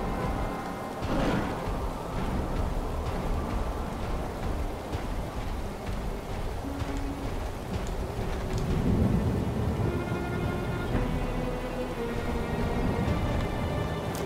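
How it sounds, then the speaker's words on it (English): Steady rain pours down with rumbling thunder throughout a thunderstorm in a fantasy action video game's research-wing area, a constant dense wash with no talk. "I love the rain in this video game."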